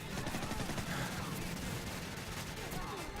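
Gunfire and explosive grenade launcher blasts in the video game Call of Duty 4: Modern Warfare, a dense, continuous roar of shots and bursts that fills the whole stretch and stays fairly quiet.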